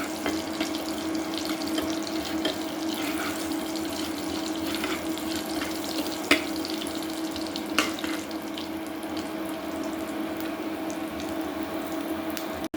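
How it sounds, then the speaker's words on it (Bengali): Panch phoron spices temper in hot oil for a singara filling, giving a steady, close, soft hissing sizzle with a few faint pops and no talking. "এই তো পাঁচফোড়নের বাগারটা দিয়ে দিলাম"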